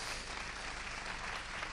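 Applause from the audience at a national conference on photovoltaic self-consumption, a steady, fairly faint wash of clapping held evenly throughout the short clip.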